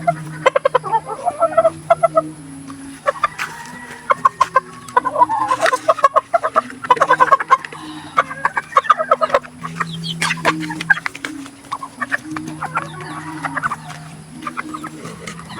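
Roosters and a hen cluck in short, scattered bursts close by, with a steady low hum running underneath throughout.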